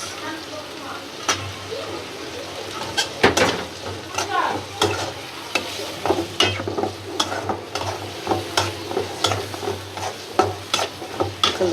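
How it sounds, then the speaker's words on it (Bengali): Shrimp fry with onions in a pan for a bhuna with pointed gourd, a steady close sizzle broken by repeated sharp clinks and scrapes of a spoon stirring against the pan, alone without voices. "চিংড়ি মাছটা খুব সুন্দর করে পেঁয়াজের সাথে ভাজা ভাজা হয়ে গেছে"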